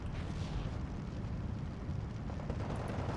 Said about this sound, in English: we've got 81mm mortar fire on the enemy position up here